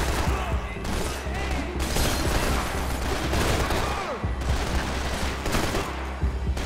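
Dense, continuous gunfire and booming combat effects from Max Payne 3 fill the scene loudly and without letup, crowded with layered game noise, with a voice talking faintly underneath.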